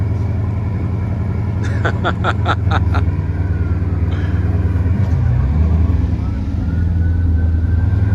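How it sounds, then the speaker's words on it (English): Bugatti Chiron Pur Sport engine in a cold start: a loud, deep rumbling drone throughout, with a short burst of rapid clicking partway through and a shift in engine pitch near the end. "we're about to hear a cold start on a Bugatti."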